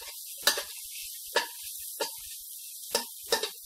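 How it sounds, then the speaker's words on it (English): Sambal sotong with petai frying in a pan, with squid in chili paste, makes bursts of sizzling and stirring scrapes, five or six distinct close strokes spaced across a few seconds against a quiet background. "We fry everything until it's fragrant."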